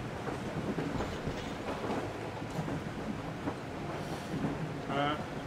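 A train in the video game Metro Exodus rolls along with a steady rattling rumble and scattered clanks, mixed with faint rain-like noise and brief tonal game sounds.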